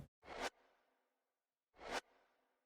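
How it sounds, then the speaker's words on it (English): Two loud broadband whooshing sweeps with a long fading tail, spaced about a second and a half apart, used as a sweep effect in a fast, dark Jersey drill beat, with no voice. "Threw on this sweep effect for some bounce."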